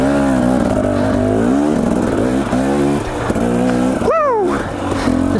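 A dirt bike on a single-track trail by the Boise River in Idaho, its engine revving hard and steady while the rear wheel spins, loud and close, with one sharp pitch swoop near the end.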